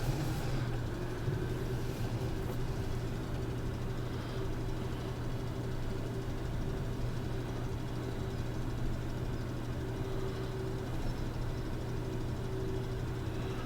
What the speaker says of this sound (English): Should turn the engine on first, I guess.